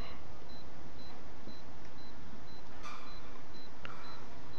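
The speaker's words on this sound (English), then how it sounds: "It's like a directional beeping" A soft, evenly spaced electronic beep repeats about every half second in an Oculus Rift VR game, faint over a steady background hiss, with a couple of brief clicks.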